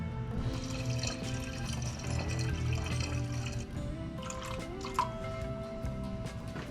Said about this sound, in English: So I'll add a little bit more coolant until it's full.